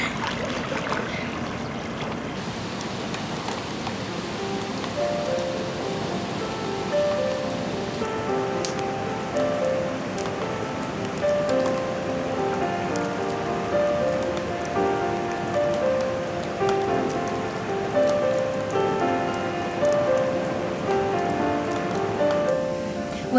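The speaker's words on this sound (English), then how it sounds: "If I look outside, it is rainy and cold today" Rain falling outside on a cold day, heard from inside a warm room as a steady, soft patter on surfaces, alone and continuous throughout, under a faint background melody.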